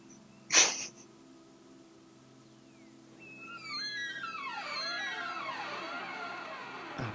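A single sharp sneeze from someone rings out near and loud, alone and followed by quiet, before a drawn-out wavering, moaning sound rises in later.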